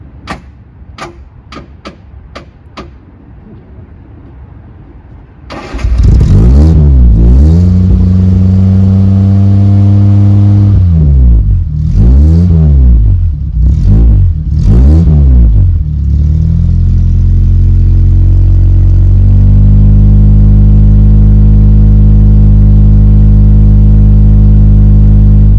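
Exterior recording of a 1970s Triumph Toledo classic car: a few sharp clicks, then the engine fires and is revved repeatedly with rising and falling sweeps before settling into a loud, steady idle, close by.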